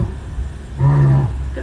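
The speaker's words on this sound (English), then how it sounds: "Actually, like this male lion. Ooh, wow. Oh, and he's making noise." A male lion at the Kilimanjaro Safaris attraction in Animal Kingdom gives a short low groaning roar of under half a second, fairly loud amid vehicle and background noise.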